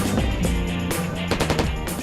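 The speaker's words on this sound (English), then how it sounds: "First up, target practice. On the GPMG, General Purpose Machine Gun." General Purpose Machine Gun firing at target practice, loud close bursts of rapid shots with sharp repeated cracks echoing through the short stretch.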